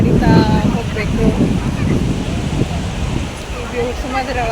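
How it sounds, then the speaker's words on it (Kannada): Sea waves washing onto Baga Beach, a steady broad wash of surf mixed with wind buffeting the microphone, with crowd voices and talk nearby. "ಅಲೆಗಳು"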